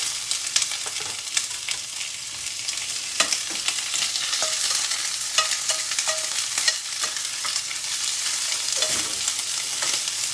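Onion frying in hot oil with half a teaspoon of cumin, a steady bright sizzle running throughout with scattered stirring scrapes and clicks, close and continuous, no voices.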